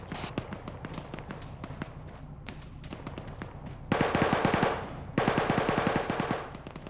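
Close-quarters automatic gunfire in Arma during a large 100+ player team battle: distant rattling shots, then two loud nearby sustained bursts, with occasional footsteps.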